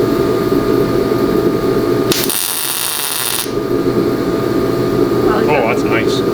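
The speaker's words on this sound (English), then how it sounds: "Oh, that is a nice tack weld." A short tack weld on rusty car body metal: a bright crackling buzz lasting about a second, standing out over a loud steady hum of running equipment, with people speaking nearby afterward.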